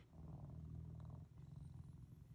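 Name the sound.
cat purring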